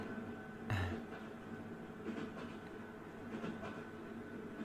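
A train rolls along on rails with a steady, low rumble and a single sharp clank early on. Faint clattering follows, all quiet and continuous.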